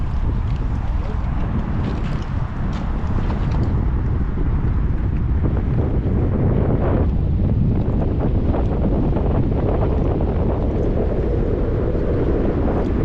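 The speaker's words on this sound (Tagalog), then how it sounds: "Lumalakas ang hangin eh." Strong wind at a seaside buffets the microphone with a constant loud roar, while voices talk faintly beneath it.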